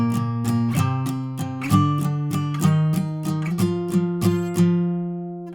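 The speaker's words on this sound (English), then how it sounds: "when you strum this octave, only these 2 notes will ring out" Acoustic guitar strumming octave shapes from a song, a steady series of bright, clean strums with two ringing notes each, close and alone with no voices.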